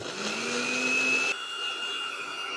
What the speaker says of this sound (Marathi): हे मिक्सरमध्ये फिरवून घ्यायचं